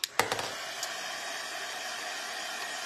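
A hair dryer drying paint on a wooden door hanger. A few sharp clicks come first, then a steady, close, airy whoosh blows evenly and without a break.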